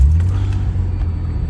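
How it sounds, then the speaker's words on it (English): A car running a Chrome ECU engine tune sits idling close by as a loud, steady low rumble with a faint jingle on top, heard alone with no talk. "And I start the car back up."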